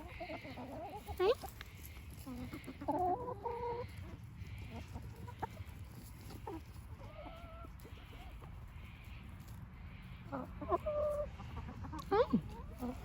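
Backyard chickens cluck and murmur in short bursts near a house garden, fairly close, with a person talking softly to them over a low background hum.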